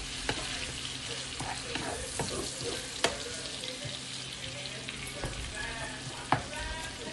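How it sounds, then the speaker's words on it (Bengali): Pampano fish sautéing with chopped garlic in a pan, a steady close sizzle with scattered sharp clicks and scrapes of a utensil stirring, no talking. "এটা একটু ভালো করে কষিয়ে নিই।"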